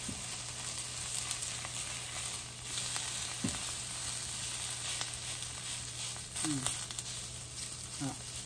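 A bean sprout batter pancake fries in a pan, a steady soft sizzle and crackle running throughout with a constant background hum, a few brief tonal squeaks and no talking.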